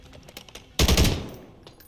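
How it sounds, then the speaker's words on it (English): Full-auto gunfire in Call of Duty: Modern Warfare III erupts as one loud, close rattling burst lasting about half a second, then trails into a decaying echo over quieter game ambience. "Why did that fire like full auto?"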